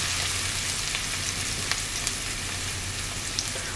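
Chopped onions, pimento peppers and hot pepper sauteing in oil in a pan for golden apple talkari, a loud, dense, continuous sizzle heard up close, with a few faint scrapes of stirring beneath it.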